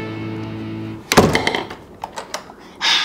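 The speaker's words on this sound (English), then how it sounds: "Oh, I forgot to close the door." A door swings shut with a solid thunk after a low hum, followed by a few scattered knocks and clicks and a short burst of noise at the end.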